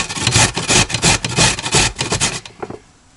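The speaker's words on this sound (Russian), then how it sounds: "Вот возьму остаток огурца и натру на терке для своей маски." A homegrown cucumber is rubbed hard across a kitchen grater in loud, close, rhythmic rasping strokes that fill about two and a half seconds, then stop abruptly. No one speaks.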